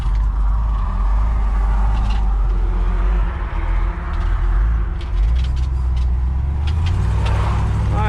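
A 1968 Ford F100 pickup truck rumbles along and accelerates on a test drive after new brakes, its low engine drone steady and close with a brief dip midway before revving back up.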